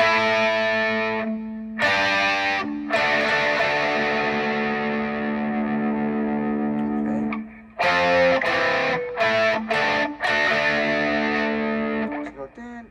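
A distorted electric guitar plays the Motley Crue "Looks That Kill" riff in an 80s hard rock style, with loud sustained chords broken by sharp stops and choppy repeated hits toward the end, heard alone.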